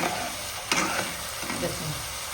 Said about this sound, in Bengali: মশলার গাতে তেল ছেড়ে দিচ্ছে